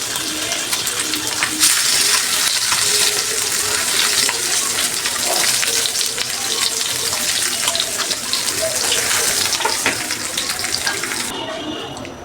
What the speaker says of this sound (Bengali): আমার মাছ ভাজাটা হয়ে গেছে, এখন আমি তুলে নিব।